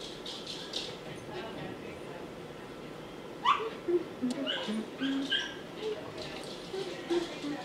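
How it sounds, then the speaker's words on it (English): Dogs yip and whimper outside at a distance, scattered short excited barks and whines running under a person talking indoors. "The dogs are going crazy out there"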